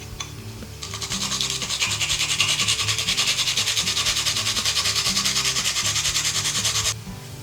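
Garlic clove rubbed quickly back and forth on a kitchen grater, a steady rhythmic rasping scrape lasting several seconds, close and distinct over faint background music.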